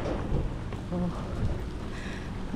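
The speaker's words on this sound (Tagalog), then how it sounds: "Umuulan na siya." Steady rain falls outdoors with a continuous broadband hiss, loud and close, punctuated by soft low rumbles that may be distant thunder.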